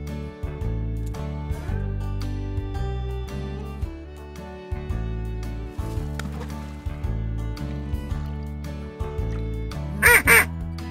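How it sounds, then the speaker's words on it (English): A short burst of duck quacks near the end, loud and close, over steady background music. "Duck."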